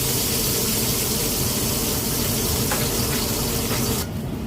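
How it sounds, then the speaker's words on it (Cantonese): Smoking-hot oil with scallions is poured over salmon and tofu, giving a loud, steady sizzling hiss that runs throughout with a few faint crackles and then drops off abruptly near the end. "將滾油同埋蔥花灑落啲三文魚豆腐上邊，"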